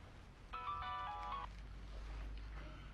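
A mobile phone ringtone goes off in a room during a burglary scene in an Iranian drama series: a short bright melodic chime lasting about a second, then faint room noise with no voices.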